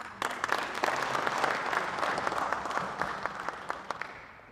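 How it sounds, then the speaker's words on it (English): An audience at the 3rd National Agricultural Extension Symposium claps for a county assembly helper, a moderate-sized group clapping with distinct sharp individual claps over a soft crowd wash, somewhat faint and tapering off at the close. "So let us clap for this man."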